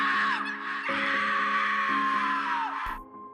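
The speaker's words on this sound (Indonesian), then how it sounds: "tiba-tiba terdengar suara teriakan dari temannya itu melalui" A woman's scream over a telephone line late at night, one shrill sustained cry lasting about three seconds that wavers slightly before cutting off abruptly.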